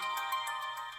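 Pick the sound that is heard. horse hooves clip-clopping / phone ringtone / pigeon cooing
phone ringtone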